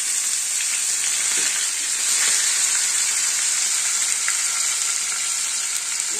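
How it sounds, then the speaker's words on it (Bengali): Six pieces of bhola fish sizzle in hot oil in a wok, a loud, steady crackling hiss with scattered pops, continuous throughout and heard alone. "একবারে আমি 6 পিস মাছই ভেজে দেবো।"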